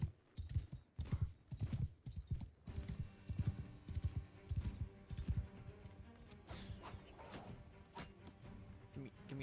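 Horse hooves clip-clop in a steady rhythm through a video game battle scene, with a brief whinny and people talking over the top.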